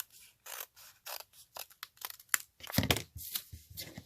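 Scissors cut down paper pages for a junk journal in a series of close, crisp snips and slices with brief pauses between strokes, paper rustling along the way.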